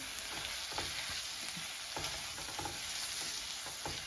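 Beef cooks in a pan with mushrooms and green pepper for cheesesteak sliders, a steady soft sizzle broken by occasional light scrapes and stirring taps, fairly quiet and with no voices.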